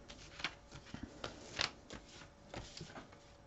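Tarot cards are shuffled quietly and close by in a string of soft riffling flicks and light slaps, with one sharper snap partway through.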